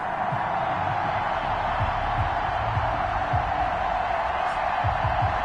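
A stadium crowd in a PS4 American football video game, Houston Texans versus New York Jets, gives off a steady roar with a few cheers and whoops, with low voices underneath.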